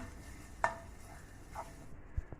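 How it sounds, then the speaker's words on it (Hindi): Crushed garlic lightly frying in a spoonful of oil in a pan, a faint steady sizzle with a couple of soft utensil clicks against the pan, no talking. "अब मैं क्रश्ड लहसुन इसमें शामिल करूँगी, इसको हल्का सा फ्राई करूँगी।"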